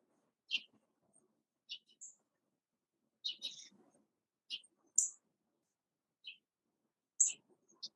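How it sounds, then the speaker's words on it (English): A bird calls in short, high chirps and twitters, about eight brief bursts spaced irregularly across a near-silent background, fairly clear and moderately close. "Got a bird. I like it."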